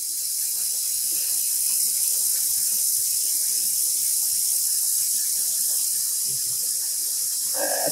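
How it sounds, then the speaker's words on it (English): Tap water pours steadily into a pot for dyeing yarn, a continuous close hissing rush that holds at an even level throughout with no voices. "I'm going to add another 2 liters. Just to make sure that there's enough water for the yarn to be completely soaked."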